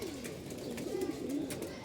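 Pigeons on a rooftop give soft, low, rolling coos, faint and repeated over a quiet background.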